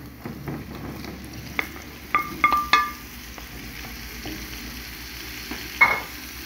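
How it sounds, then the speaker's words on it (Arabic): Onion and garlic fry in a pan with pumpkin going in, a soft steady sizzle with a few sharp clinks and stirring knocks, moderately close and without talk. "ها هي البصله والثوم تشحروا مزيان، غنزيد عليهم هاد الكابويا"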